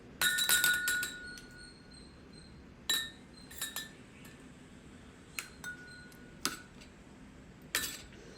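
Glasses clink several times in short bright bursts as mango kulfi mixture with soaked sabja seeds is stirred and poured into them, with quiet gaps between the sharp chimes.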